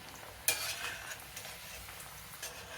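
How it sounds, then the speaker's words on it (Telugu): Amla pieces fry in peanut oil over a medium flame for a jaggery amla pickle, giving a steady close sizzle with a sharper burst of crackle near the start and light stirring. "స్టవ్ ఫ్లేమ్ని మీడియంలోనే ఉంచుకుని ఈ ముక్కల్ని వేయించుకుందాం."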